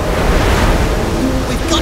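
Ocean waves in an Octonauts cartoon surge as a loud, dense wash of rushing water and wind noise, steady and unbroken over a short stretch.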